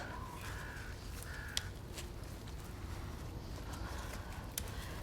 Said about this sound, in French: C'est une corneille, je sais.